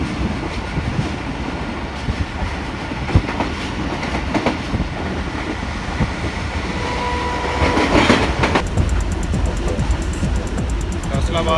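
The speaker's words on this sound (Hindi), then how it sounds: "गोजरा रेलवे स्टेशन से पास थ्रू हुई है ट्रेन" Passenger train passing through Gojra railway station without stopping, heard from on board: a continuous loud rumble with rhythmic clickety-clack of wheels over rail joints, growing busier near the end.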